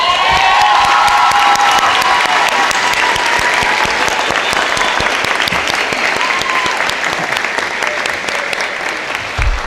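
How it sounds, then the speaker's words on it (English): Sustained audience applause at a school graduation ceremony, loud and steady throughout with dense clapping and a few whoops and voices shouting over it. "Let's give them a round of applause, everybody."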